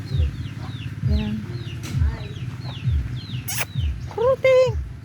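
Chickens and a rooster cluck and squawk close by in a rural village yard in the morning, with repeated low clucks and sharper calls, some birdsong and voices in the background.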